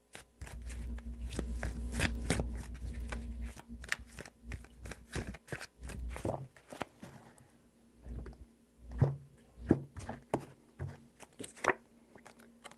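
Tarot cards are shuffled by hand, a burst of dense riffling and flapping at first, then scattered softer card slaps and taps with quiet pauses between.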